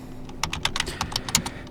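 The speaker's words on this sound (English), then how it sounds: "We can check that by typing in the command sudo" Someone types a terminal command on a computer keyboard, giving a quick close burst of about a dozen crisp key clicks at an uneven rhythm.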